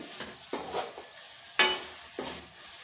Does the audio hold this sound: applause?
no